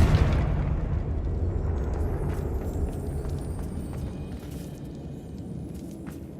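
A Confringo fire spell explodes in Hogwarts Legacy, a loud low boom at the start that trails into a sustained rumbling roar fading slowly over several seconds, with no talk.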